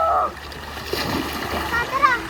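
People step into a clear, shallow river in Zambales, Philippines, with a short burst of splashing and water movement close by, while voices talk over it.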